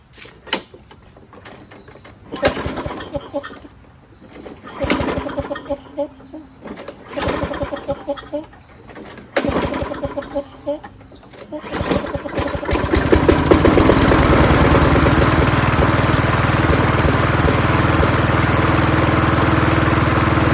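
Toro Recycler walk-behind lawn mower being pull-started, with several short strained cranking attempts before the engine catches and settles into a loud, steady running drone.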